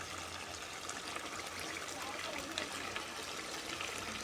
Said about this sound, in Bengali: এখন আমি পানি দিয়ে দেবো